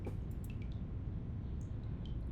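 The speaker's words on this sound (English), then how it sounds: "Only the rustle of the feathers and the drip drops of a water clock can be heard." A water clock in a video game drips with a few sparse, faint plinks over a steady low background hum, the drops spaced irregularly and quiet.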